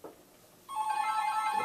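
After a brief quiet pause, a telephone bell starts ringing as one continuous, moderately loud electronic trill that lasts to the end.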